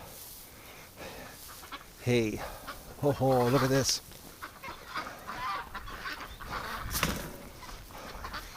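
Ducks quack and honk in a short burst of several calls nearby on a winter morning, while a person speaks briefly over the outdoor background.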